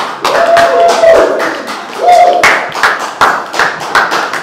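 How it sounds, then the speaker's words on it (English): An audience claps for a jazz group at an event in a Nigerian film scene, giving uneven bursts of hand claps and taps, fairly close and loud, with sustained tones and noise running beneath. "Put your hands together for them!"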